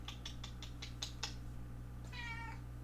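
A cat meows squeakily several times in a quick run of short, high calls, then lets out one longer wavering meow after a pause, faint against a steady low background hum.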